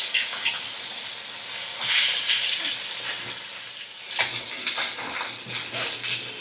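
Pieces of fish rubbed with salt and turmeric fry in hot oil at medium heat, giving a steady crackling sizzle with louder spattering bursts near the start and again toward the end.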